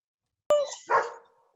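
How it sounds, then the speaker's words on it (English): A single sharp dog bark sound effect, followed by a second, softer bark-like yelp, both short and clear against silence. "you added the dog bark"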